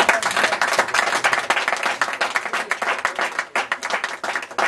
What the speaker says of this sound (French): Il faut applaudir.